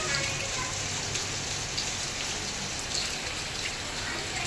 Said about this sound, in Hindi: ये देखो बहुत बारिश हो रही है।